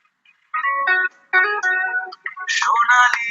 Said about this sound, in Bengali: আপনারা শুনতে পেলেন রিংটোন